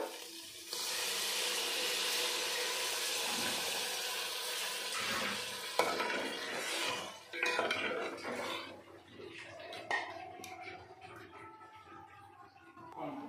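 Warm water is poured into duck meat frying in a handi pot during kosha cooking. A loud, steady sizzle and hiss runs for several seconds, then breaks into bubbling and stirring clatter.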